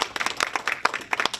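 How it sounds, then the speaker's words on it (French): Audience applause at an airline launch event: dense, close clapping with many individual hand claps in an uneven rhythm, filling the short stretch without talk. "Sous vos applaudissements"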